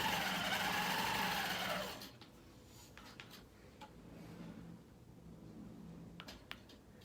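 A longarm quilting machine runs steadily across a quilt with a loud, even whirring stitch, then cuts off after two seconds, leaving faint ticks and light handling noises.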